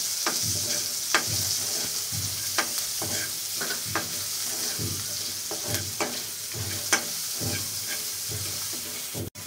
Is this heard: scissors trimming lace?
no